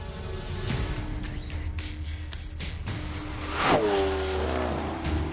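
A Lamborghini Aventador Roadster drives at speed, its engine droning steadily with gear-shift pulses, then surging louder into a rising rev that falls into a sustained tone as the car passes close.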